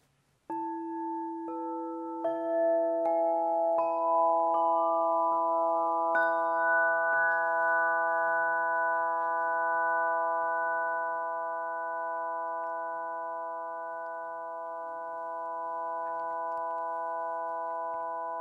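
Metal sound tubes tuned to an overtone scale are struck one after another, each clear ringing tone stacking into a sustained, shimmering chord that starts dissonant and slowly blooms, gentle and alone in a quiet room.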